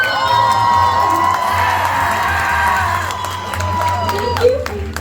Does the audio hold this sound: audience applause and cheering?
yes